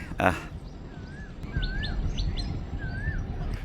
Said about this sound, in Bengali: কোকিলও ডাকতেছে।